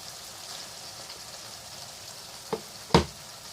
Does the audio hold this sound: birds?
no